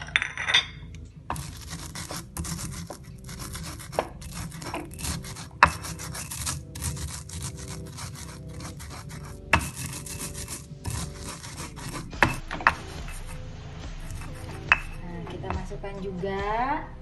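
Salt and dry-toasted coriander seeds being pounded and ground in a mortar, a continuous gritty rubbing and grinding with repeated sharp knocks of the pestle, close and fairly loud, and a voice talking at times over the work.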